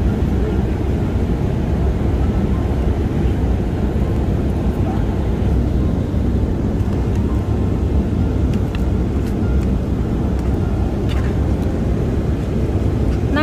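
Constant loud broadband roar inside an airliner cabin in flight, a steady engine and air rush with no breaks, close and enveloping throughout.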